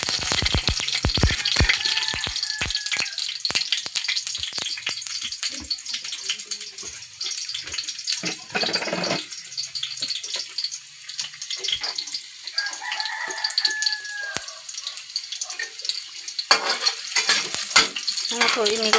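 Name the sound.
onion and garlic sautéing in a pan for adobo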